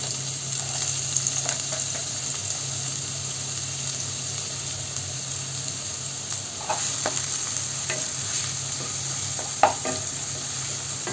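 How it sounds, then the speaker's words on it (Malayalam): Finely chopped onion frying in hot oil for a mushroom masala, stirred in the pan; a steady close sizzle runs throughout, with a few brief scraping and clinking stirs and no talking. "ഇതൊന്ന് ഈ ഓയിലിൽ കിടന്നിട്ട് ഒന്ന് നന്നായിട്ട് വാടി വരണം ഏകദേശം ഒരു രണ്ട് മിനിറ്റോളം നമുക്കിതൊന്ന് ഇളക്കി കൊടുക്കാം"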